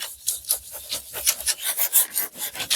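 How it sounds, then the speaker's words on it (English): A furniture transfer is burnished in by hand with short, brisk rubbing strokes, a dry, raspy scraping repeated in a quick, uneven rhythm, close and fairly quiet. "So then you just need to burnish this in all together."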